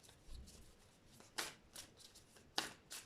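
Tarot cards being shuffled by hand, a run of quick riffling bursts with a few sharper slaps, close and fairly quiet with no voices.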